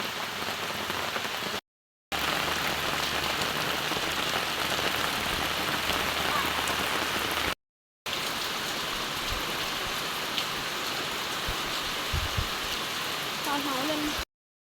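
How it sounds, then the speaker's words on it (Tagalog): Heavy rain pours steadily on a fish pond farm, a dense, loud hiss of drops on surfaces that continues without pause, broken only by two short gaps of silence. "malakas na po ang ulan"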